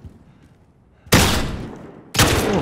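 Gunfire in the video game Call of Duty Modern Warfare: two loud, close bursts of rapid shots, each decaying into a rumbling echo, separated by about a second of near quiet.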